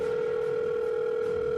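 Telephone dial tone, a steady unbroken electronic hum that holds at the same level throughout with nothing else over it.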